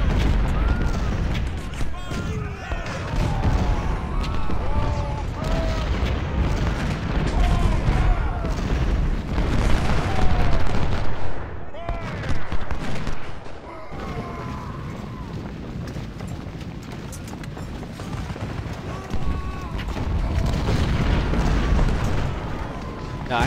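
Cannon artillery booms roll out in a Civil War battle game, with repeated heavy blasts and rumbling volleys across the whole stretch while someone talks over them continuously.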